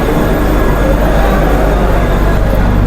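Indian Railways train standing at a station during boarding for a third AC coach, a steady loud low rumble and hum of the train and platform without breaks or voices.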